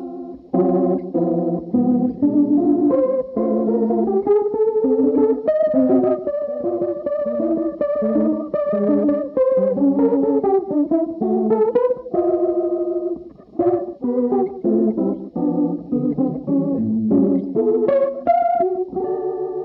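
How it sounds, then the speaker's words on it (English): Overdriven electric guitar with a swirling, Leslie-style rotating-speaker modulation, played continuously as chords and melodic lines, loud and up close with no voices. "add a little bit of overdrive, you kind of get that Leslie sound"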